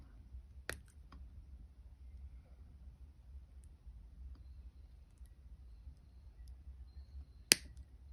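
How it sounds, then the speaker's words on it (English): Wire cutters snip jewelry wire in a quiet room: two sharp, close clicks about seven seconds apart, with faint handling noise in between. "I'm going to grab my cutters. And I'm going to cut some of this wire off."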